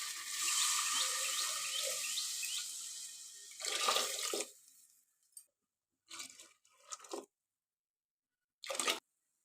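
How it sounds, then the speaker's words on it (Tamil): Water is poured into a pot of chicken keema curry, a close, bright rushing pour that runs for several seconds, then tapers into a few short separate splashes with silence between them. "இப்போ தண்ணி ஊற்றிடலாங்க"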